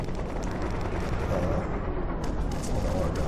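Rocket launched in the war game Red Crucible: Firestorm, fired from a tank kit: a loud, continuous booming roar with blast rumble filling the whole stretch.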